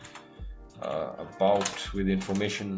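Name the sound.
typing on a computer keyboard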